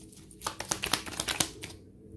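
Tarot cards being shuffled, a quick run of crisp riffling flicks and slaps that builds, clatters for about a second, then stops into quiet.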